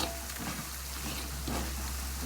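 Ground cumin and coriander sizzle and fry in a pan while being stirred for Coto Makassar, giving a soft, continuous crackling hiss with gentle scraping undertones, fairly quiet and with no talking.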